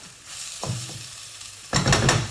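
Onion sizzling in a very hot pan for a chicken and black bean stir fry, with a steady hiss broken by a few utensil stirs and a louder surge of frying toward the end.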